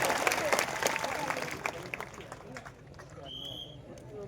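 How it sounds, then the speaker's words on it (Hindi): Crowd clapping in a burst of applause at a political rally at Mangarh Dham, fading out, with cheering and talk mixed in, followed by quieter murmuring. "उनके लिए तालियां बजाइए।"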